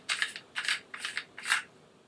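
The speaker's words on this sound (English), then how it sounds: "remove the magazine cap. Simply screws off, like so." Magazine cap of a Benelli M2 Field shotgun being unscrewed: four short, close scraping, ratcheting bursts in an even rhythm, with no talking.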